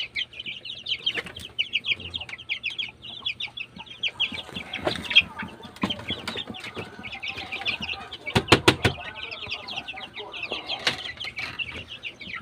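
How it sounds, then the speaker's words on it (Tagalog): Newly hatched chicks from an incubator peep in a steady high chatter throughout, with some clucking from adult chickens, a brief flutter of wings and a few short louder bursts in the middle. "So out of 12 mga kapanok, yan lang sila na ang napisa."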